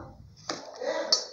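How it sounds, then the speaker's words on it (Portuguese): A utensil stirs stiff homemade slime in a container, giving a short, close scraping rub with a couple of sharp clicking taps and no talking. "Tem que misturar ela, porque ela está durinha, durinha, durinha"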